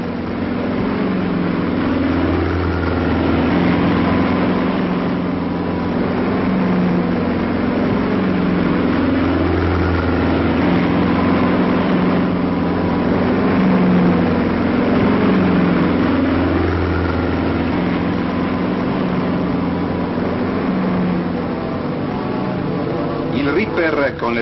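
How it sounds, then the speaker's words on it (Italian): A bulldozer tractor drags a ripper through Sardinian scrubland, its heavy diesel engine droning steadily and loudly with a low, pulsing throb that rises and falls slightly over a long stretch. "il bulldozer rade alla base la parte aerea delle macchie, combinando questa volta la propria azione con un altro strumento trainato dallo stesso"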